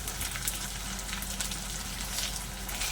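Ginger-garlic paste, onion and chopped tomato fry in a pan for a lote fish curry, a soft, even sizzle and crackle that holds steady without pause, fairly quiet and with no voices.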